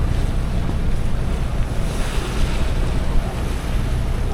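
Big ocean waves and strong wind roar continuously around a solo sailboat crossing from Rum Cay to Cat Island in the Bahamas, a dense, loud wash of surf and wind buffeting with no talk.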